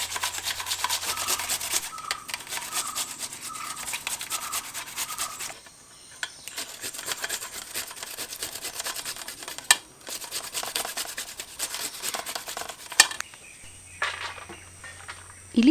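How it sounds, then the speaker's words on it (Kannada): Peeled radish is grated by hand, making a steady close rasping rub in rapid repeated strokes that runs for many seconds with only brief pauses. "ಮೂಲಂಗಿಯನ್ನು ಪೀಲ್ ಮಾಡಿಕೊಂಡು ಈ ರೀತಿ ತುರಿದಿಟ್ಕೊಳ್ತೀನಿ."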